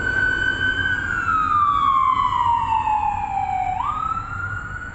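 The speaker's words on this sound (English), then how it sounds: "we got an ambulance zooming by." An ambulance siren passes along a street, a steady wailing tone sweeping down and then jumping back up, loud and close over low traffic rumble, with no talking.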